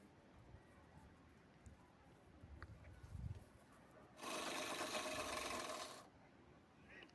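A sewing machine stitching a folded fabric lining runs in one steady, fairly loud burst of about two seconds, after quiet handling and rustling of the cloth in a hushed room.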